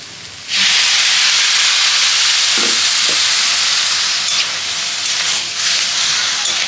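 A little water hits frying samosa filling in a pan, bursting into a sudden loud hiss of steam that holds steady, with a few light scrapes and clinks during the sustained sizzle.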